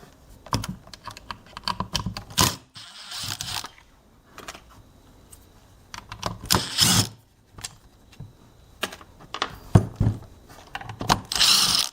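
A tool undoing the screws that hold a cover on a 2013-2020 Ford Focus ST, heard as close, irregular short whirring and clicking bursts with brief gaps between them.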